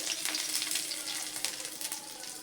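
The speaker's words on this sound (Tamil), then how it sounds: "கடுகு வெந்தயம் கொஞ்சம் சீரகம் நல்லா பொரிஞ்ச உடனே கொஞ்சோண்டு ரெண்டு பல் பூண்டு" Mustard seeds, fenugreek, cumin and garlic tempering in hot oil give off a bright, steady crackling sizzle with rapid small pops, close and fairly quiet.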